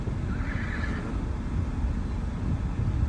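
A horse at a ranch in Temecula, California whinnies, a shrill wavering call rising early on over steady outdoor rumble, fairly close and without talk.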